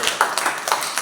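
Church congregation clapping hands together during a Sunday morning service, a brief burst of several overlapping claps close by with a lively, roomy echo.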